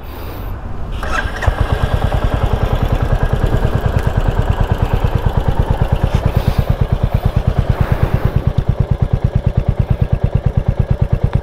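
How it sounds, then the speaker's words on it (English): A Royal Enfield Hunter 350 motorcycle starts and settles into a steady, throaty idle with a deep, regular thumping exhaust pulse, loud and close. "Clear and throaty exhaust."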